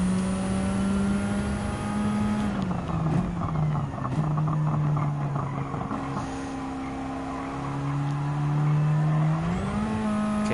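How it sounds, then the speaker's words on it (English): A race car engine held at full throttle in Gran Turismo 7 drones loudly and continuously for the whole stretch, its pitch climbing and dipping through gear changes with a buzzing, raspy tone. "Now, full throttle and catch up to Busby Boris"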